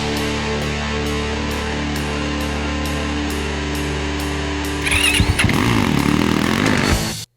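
A 2020 Yamaha YZ250FX dirt bike's engine drones steadily up close, then revs sharply and loudly toward the end before cutting off abruptly.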